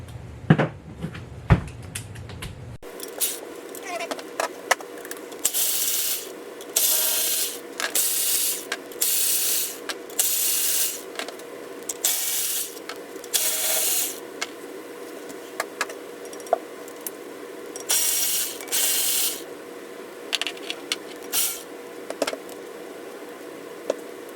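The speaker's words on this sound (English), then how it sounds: "I'm going to pull the valve body off here with these bolts here, and we should be able to get this thing off." Repeated bursts of a ratchet wrench clicking on the valve body bolts of a 1966 Mustang automatic transmission, close and loud in short irregular runs with pauses and occasional metallic clinks between them.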